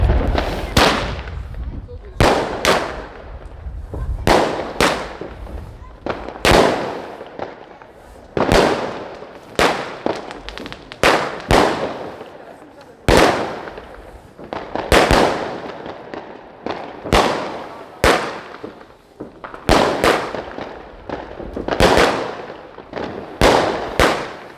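New Year's Eve fireworks and firecrackers go off in a long series of loud, sharp bangs and pops, about twenty blasts spread irregularly over the stretch, with the crackle of some bursts trailing off between them.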